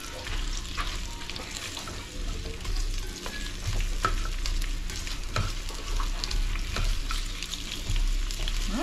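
Onion and ginger are sautéed in a pan, a constant crackling sizzle near the mic with repeated scraping stirs from a utensil.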